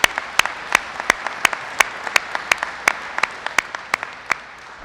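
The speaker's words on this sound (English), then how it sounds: "let's give first a round of applause for the award-winning ODRC Honor Guard." Audience applause for an award-winning ODRC Honor Guard at a City of Columbus veterans appreciation event: scattered, distinct individual claps at an even pace, fairly close and crisp, with no voices over them.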